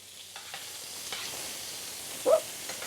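Sliced onions frying in a pan with rice and peppers, giving a soft steady sizzle with a few light stirring scrapes and one brief louder clatter near the end.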